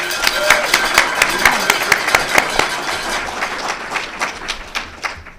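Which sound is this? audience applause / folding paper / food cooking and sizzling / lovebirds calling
audience applause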